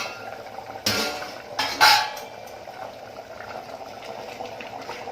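Octopus curry in a covered pot on a high gas flame, a steady low bubbling with a couple of sharp metallic clanks of the lid and utensils near the middle, no talking.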